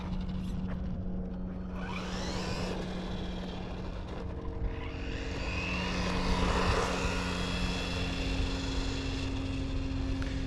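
A Hosim ZENO X05 1/10 scale RC car pulling away from a stop outdoors, its high electric motor whine sweeping up in pitch twice over a steady low hum, growing louder toward the end.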